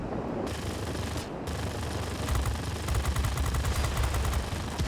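Rapid aircraft cannon and machine-gun fire from an F-84F Thunderstreak jet fighter in World of Warplanes, a dense rattling burst that swells louder midway and continues steadily over engine rumble, with no talking.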